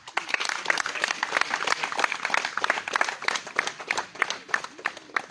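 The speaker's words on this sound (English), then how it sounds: "Let us just applaud our excellence." A crowd applauds with steady, dense clapping and scattered cheers at a political gathering, loud and continuous throughout with no talk over it.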